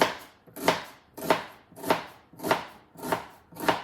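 A whole big onion chopped on a board, seven evenly spaced knife strikes about half a second apart, crisp and close with nothing else heard.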